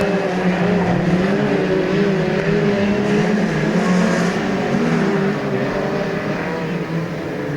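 Midget race cars lap the Ruapuna Park track in a New Zealand championship repechage, their loud engines droning and wavering in pitch as several cars pass close by in a continuous stream.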